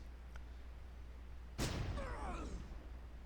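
A single sharp burst of gunfire sounds in the Close Combat World War II strategy game, a loud crack that decays into a short ringing tail over a quiet, low background hum.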